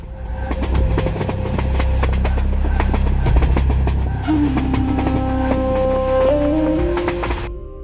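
A Durango and Silverton narrow gauge train rumbles steadily along cliffside rails with rhythmic clacking and squealing wheels, while a high whistle-like tone rises and holds near the end.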